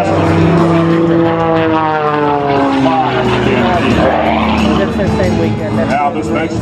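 Matt Chapman's aerobatic propeller airplane performs at an air show, its engine droning loud and close with pitch sweeping up and down as it maneuvers, while an announcer talks over it.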